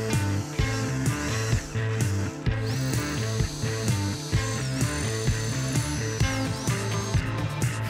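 A power drill drives screws into wood in repeated short bursts, each with a whining motor and ratcheting clutch clicks, close and fairly quiet.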